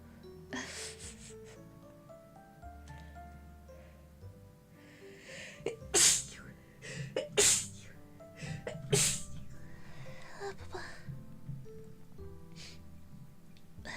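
Three sharp sneezes burst out in quick succession over soft background music, loud and close to the microphone.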